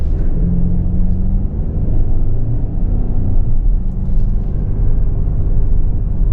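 A 2024 Lincoln Nautilus Première pulls away, heard from inside as a steady low road rumble and muted engine hum that stays even throughout, with no talking.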